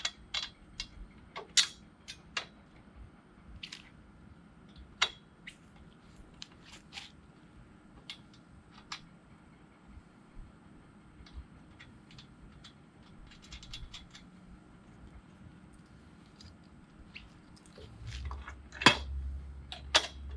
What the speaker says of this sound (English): So I'm going to bolt through from the outside in.